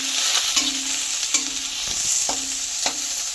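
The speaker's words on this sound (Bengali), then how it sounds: "এবারে দিয়ে দেবো কুচানো পেঁয়াজ।" Chopped onions going into oil with garlic already fried in it, for a Bengali prawn bhorta; a steady close sizzle with scrapes of stirring at a few intervals, no talk.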